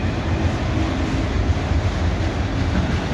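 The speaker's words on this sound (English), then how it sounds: "This is two trains tied together. Auto rack train tied to a manifest train." Auto rack train coupled to a manifest train rolls past close by, giving a loud, continuous low rumble with dense rail noise throughout.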